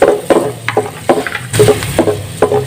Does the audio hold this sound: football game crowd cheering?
no